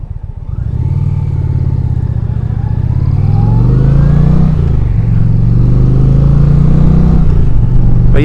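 A 2025 Indian Chieftain motorcycle engine revs up loud and close, its low throbbing note climbing and falling through several throttle blips with no voices.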